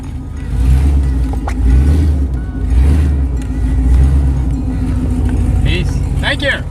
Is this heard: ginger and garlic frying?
no